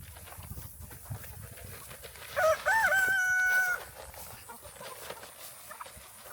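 A rooster crows once at a farm auction, a loud, clear cock-a-doodle-doo rising and then holding for about a second and a half, set against quieter background chicken clucks and farmyard noise.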